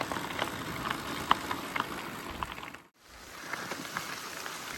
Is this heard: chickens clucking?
no